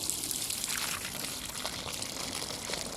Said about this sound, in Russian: обильно поливаю водой.